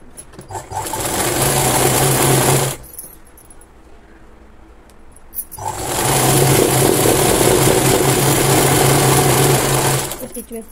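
A sewing machine stitches the bottom of a Punjabi dress in two long, loud bursts of rapid whirring, each several seconds, separated by a short quiet pause, close up with no talking.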